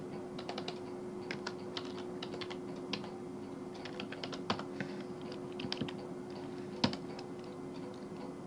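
Soft clicks of a computer keyboard as a URL is typed, irregular keystrokes in short clusters over a quiet steady hum, fairly close and faint, with no talking.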